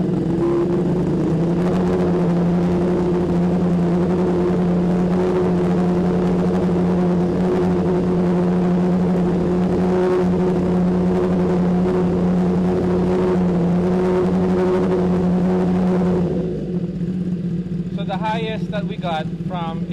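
A Kawasaki ZX-10R held at a steady 3,000 RPM roars loud and close with a constant droning exhaust note, then drops off near the end, leaving quieter background chatter.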